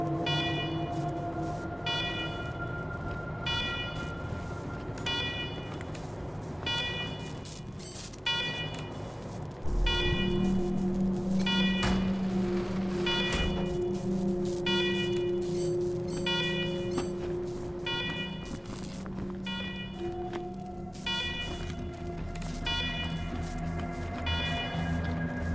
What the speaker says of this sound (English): Alarm! Alarm! Alarm!